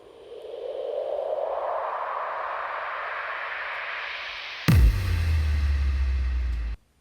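A noisy riser made with a Boomer FX effect swells and climbs in pitch for several seconds, then a heavy low boom hits and rumbles on before cutting off abruptly.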